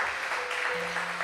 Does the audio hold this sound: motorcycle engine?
no